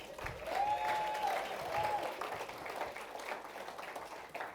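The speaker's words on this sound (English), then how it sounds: "Can we give him another round of applause?" An audience at a high-level business breakfast breaks into applause, a dense wash of clapping that swells early, then tapers off gradually, with a brief voice rising over it.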